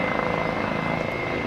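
Boeing light utility helicopter, a three-ton class machine with a single turboshaft engine, flying a display at the Aero India 2017 air show in Bengaluru; a steady, loud rotor and turbine roar with rhythmic blade thumping, no voices.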